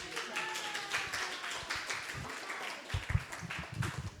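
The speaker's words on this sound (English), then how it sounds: "Give please another round of applause." Applause from an audience at a temple disappearance-day program after a children's kirtan, a scattered patter of hand claps that rises and falls, fairly close and moderately loud with no voices over it.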